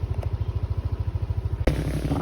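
A motorcycle on the road to Bolinao runs with a steady pulsing engine throb, then a sudden thump and a shift into a rougher, louder rumble, with no talking.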